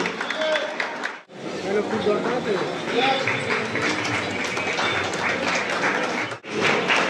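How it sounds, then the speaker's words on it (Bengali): A school reunion crowd claps steadily in a hall, a dense wash of applause mixed with murmuring voices, broken by a brief pause partway through before the clapping resumes. "হাততালি হাততালি।"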